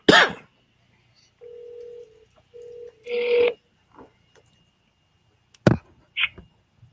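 Telephone tones on a call: a short burst of noise, then steady electronic ringback tones repeating in even pulses, followed by scattered clicks and a brief voice-like sound near the end.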